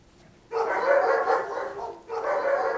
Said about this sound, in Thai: เจ้ารอนหน้าเป็นหนึ่งในสุนัขที่เข้ารับการประครบประงม เป็นประจำทุกอาทิตย์จากโรงแรมสุนัขในทางตอนใต้ของอินเดียค่ะ